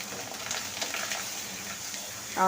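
Green chillies and curry leaves sizzle faintly in hot oil in a pan, a steady low crackle with a brief stirring clatter near the end.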